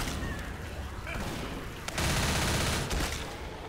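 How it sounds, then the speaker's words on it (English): Gunfire from a video game aimed at the Witch: rapid, loud bursts of shots over a busy game background, with voices talking in the mix. "Just shoot her when she climbs up, bro."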